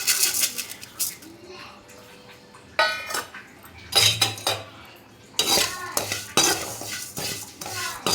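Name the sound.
roasting white poha in a pan for health mix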